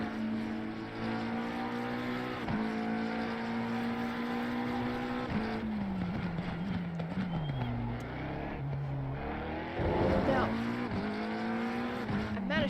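Race car engines in a sim racing game drone steadily, including a Porsche, their pitch climbing and dropping through gear shifts over several laps, with a commentator talking over the sound.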